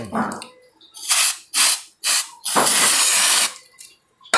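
Aerosol cleaner sprayed onto the ignition points of a Suzuki Jimny Katana, in three short hissing bursts followed by one longer, steady spray, loud and close, with no talk over it.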